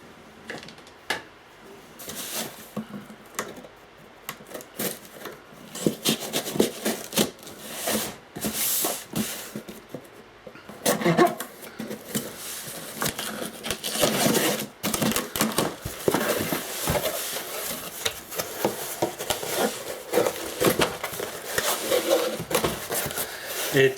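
Cardboard and plastic of a loosely packed online delivery package being torn open by hand, a steady run of close ripping, crinkling and scraping bursts that continue throughout with no talk.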